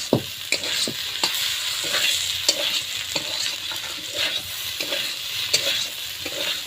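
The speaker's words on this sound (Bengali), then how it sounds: "এবার আমি 5 মিনিট ধরে কষিয়ে নেব" Boiled potato and onion stalks are stir-fried in a wok, a spatula scraping and knocking the pan in a loose repeated rhythm over a continuous close sizzle.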